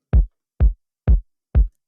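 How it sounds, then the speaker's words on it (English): Four evenly spaced kick drum hits, deep and punchy, each ending in a short thud with silence between. "So then I added a kick drum"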